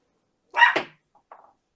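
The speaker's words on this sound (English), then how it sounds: "You close the front door so they can stop barking out of it." A dog gives one sharp bark indoors, followed by a fainter, shorter yip a moment later, with silence around both.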